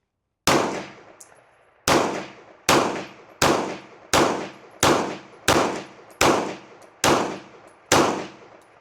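Ten left-handed shots from a Glock 19 Gen 5 pistol, each ending in a sharp ringing clang off steel targets, fired in a fast, even rhythm roughly one per second, loud and close with no talk.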